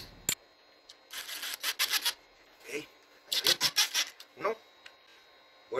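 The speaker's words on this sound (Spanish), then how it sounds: "Vamos a colocar las pijas." Screws from the kit being driven in by hand to mount the carriage of a Ducasse D25P sliding door system, a series of short close rasping twists in quick bursts with brief pauses between.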